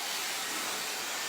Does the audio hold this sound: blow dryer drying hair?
yes